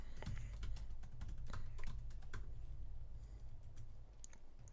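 Fingers type a short line of code on a computer keyboard, a quick, uneven patter of light key clicks with brief pauses, faint and close, with no speech.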